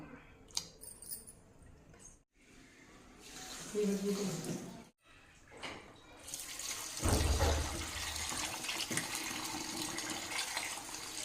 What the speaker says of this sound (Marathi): खळखळ पाण्याने तर आपण आता हे धुवून घेतलेत पाण्याने